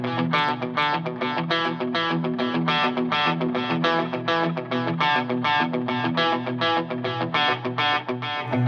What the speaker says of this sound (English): I've got like a chorus, kind of a vintage chorus going on, and just a bit of mild overdrive